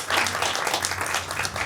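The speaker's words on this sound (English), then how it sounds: "So could you please give a warm round of applause to Mark?" An audience at a fringe theatre show claps in a short burst of applause, brisk and fairly close, lasting under two seconds.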